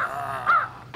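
A single harsh crow caw rings out up close, a rasping call that swells midway and trails off, with a faint second call starting at the end.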